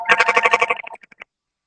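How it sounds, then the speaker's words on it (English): An office telephone rings in a fast, warbling electronic trill, loud and close, then breaks into a few fading chirps before stopping; no voices are heard. "Got your phone ringing in the background? Yeah, that's the office phone"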